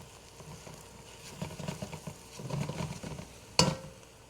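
Butternut squash and garlic soup base sizzling in a pot while being stirred, with soft bubbling patters, a few scraping strokes and one sharp clank of the spoon near the end, close by.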